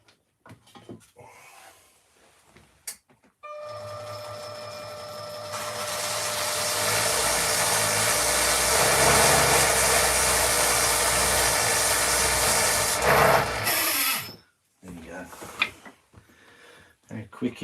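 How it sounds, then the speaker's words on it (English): A small miniature power sander works a wood carving, starting with a click and then whining at a steady high pitch that grows louder and rougher for about ten seconds before cutting off, with quiet handling noises before and after. "I'm going to set up my little miniature sander"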